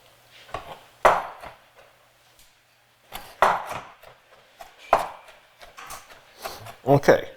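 Raw shrimp being diced with a knife on a board, giving irregular clusters of dull chopping taps with short pauses between them, faint and close.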